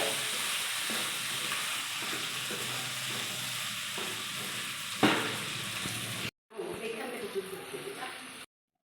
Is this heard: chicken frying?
yes